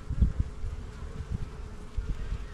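Honeybees buzz around a small nucleus hive as they draw comb, a soft low drone with intermittent louder passes as individual bees fly close by, no talk heard.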